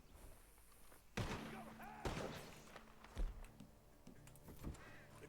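A few sharp gunshots crack out from a barn in Red Dead Redemption 2, spaced irregularly and fairly faint, amid quieter game ambience and voices.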